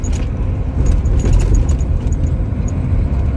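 Road traffic on Moscow's Volokolamsk highway, a constant loud broadband roar of passing cars and engines with faint metallic jingling on top.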